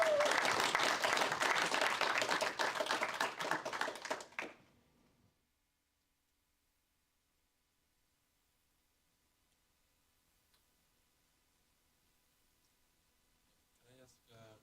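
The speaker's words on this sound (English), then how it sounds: "I think that's worth an applause still" A room at a cloud native thesis night breaks into brisk, loud applause for a few seconds, then stops abruptly into near silence before a voice begins speaking at the end.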